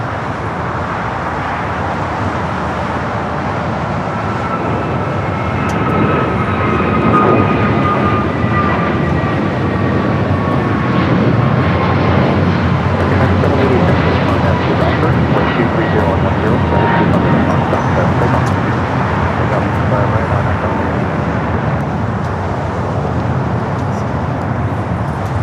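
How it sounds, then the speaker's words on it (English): An EVA Air Boeing 777-300ER in Star Alliance livery rolls for takeoff on runway 24 left at Los Angeles airport, a loud steady jet roar with rising whine tones sustained throughout, with speech over it. "Eva in that Star Alliance livery of the 777-300ER heading back to Taipei,"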